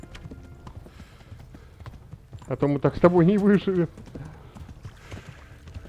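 Hooves of a horse in the medieval game Kingdom Come: Deliverance clop steadily, with a short loud neigh rising in the middle, as someone talks over it.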